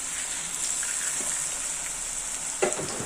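Okra pakoda batter crumbled into hot oil in a pan for crispy vendakkai fry, giving a steady, close bubbling sizzle throughout with a brief louder splash or clink near the end.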